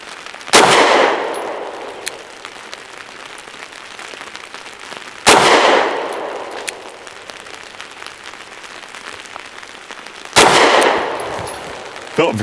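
Three loud, sharp pistol shots from a Derya Arms DY9 with an island barrel, fired at an outdoor range, spaced about five seconds apart, each followed by a ringing metallic echo.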